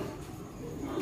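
Young racing pigeons coo softly in a loft, low, repeated throaty calls that sit faintly against quiet background noise, with no talking.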